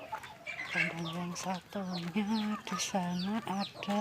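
Chickens clucking in a coop, including a hen sitting on eggs, a run of close, repeated clucks and calls with a person speaking over them.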